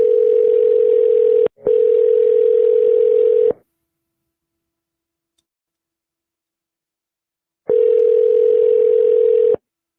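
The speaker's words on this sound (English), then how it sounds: "Answer the phone." Outgoing call ringback tone on a telephone line, steady buzzing rings in a repeating cadence: two bursts close together, a long silence, then another burst, loud and clear with no talking.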